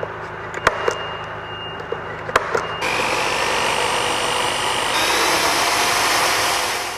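A power drill with a 400mm long bit whirs steadily and loudly for several seconds, drilling out stanchion bases after a few sharp knocks, its pitch rising slightly midway.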